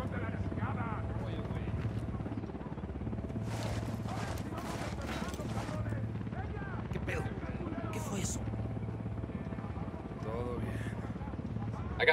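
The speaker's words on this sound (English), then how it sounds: "Chopper inbound." Helicopter rotor throb in a drug-camp operation scene, a steady low pulsing drone running the full length, with voices and rustling movement over it.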